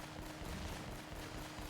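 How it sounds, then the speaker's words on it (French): Rapid, continuous gunfire from an unlimited-ammo gun in the video game Uncharted: Drake's Fortune, a dense, steady burst of shots held at an even level with no gaps across the short stretch. "Je suis sûr que le bruit du gun, vous adorez ça."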